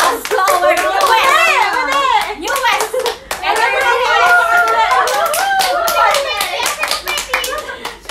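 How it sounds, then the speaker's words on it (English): Several people clap hands loudly in a room, quick irregular claps running throughout while children and adults talk and laugh over them. "let's give them a round of applause to our newest."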